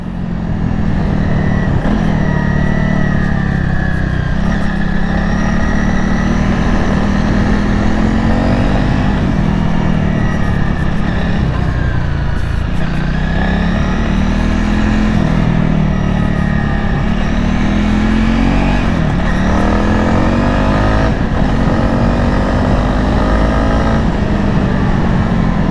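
A Honda CRF 300 motorcycle is ridden at a steady pace. Its engine drones continuously and loudly with mild rises and falls in pitch, and strong wind rush sits on top throughout.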